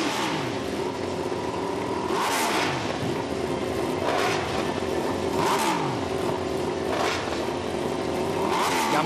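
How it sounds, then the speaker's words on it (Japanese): MotoGP racing motorcycles, including Yamaha and Repsol Honda machines, rev their engines at Yamaha Stadium. Loud, sustained engine roar swells into repeated rising revs every couple of seconds, with no voices. "ヤマハスタジアムにこの MotoGP のエンジン音が響き渡ります。"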